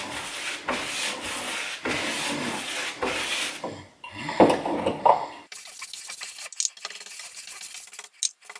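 Stain being rubbed by hand onto a wooden kitchen countertop, a steady close scrubbing in long strokes with brief pauses, then lighter, softer wiping near the end.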